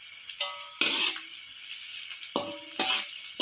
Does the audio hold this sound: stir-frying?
yes